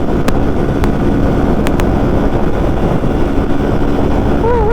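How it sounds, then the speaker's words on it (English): Wind buffets a motorcycle rider's helmet microphone in a steady loud roar, with a few sharp clicks early on and no talking. "It's very windy."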